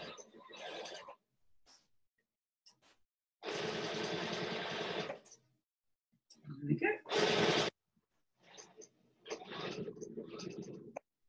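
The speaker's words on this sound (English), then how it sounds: "now I'm just sewing along straight the way across there" Sewing machine stitching fabric binding, running in a few short bursts and two longer steady runs, close by, with a voice talking in the pauses between.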